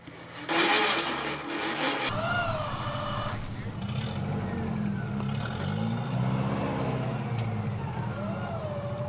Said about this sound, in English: Winching, winching, winching! Machine! Winch out, winch out, winch out!